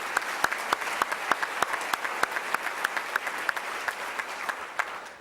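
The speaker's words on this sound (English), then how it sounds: "I think that deserves another round of applause" Applause at a 2004 South St. Paul Educational Foundation scholarship banquet, a steady crowd clapping with a few sharp, close individual claps standing out in an irregular rhythm.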